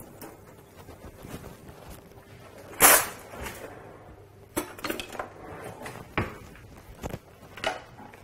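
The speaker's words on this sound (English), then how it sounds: "Grab a spatula." A spatula clatters against a pot of cauliflower in a kitchen, sending one loud metallic clang and then several scattered scrapes and knocks, with no talking.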